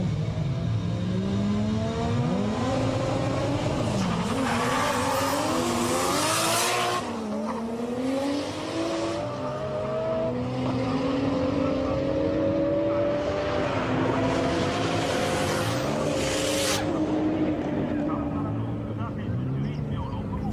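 A Toyota Supra drag car with an HKS T51R turbo and relatively few modifications revs and accelerates hard with rising engine pitch, tire squeal and gear changes, while someone talks throughout.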